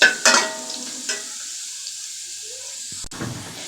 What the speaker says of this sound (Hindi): आँच को मीडियम रखना है, थोड़ा सा ब्राउन करना है लहसुन को।